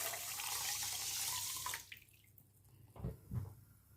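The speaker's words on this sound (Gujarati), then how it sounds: "એ જ માપનું આપણે પોણા 2 કપ પાણી નાખીશું" Water poured into a bowl of sugar while making suji halwa, a steady broadband pouring stream for under two seconds, then quiet with two soft clinks or splashes near the end.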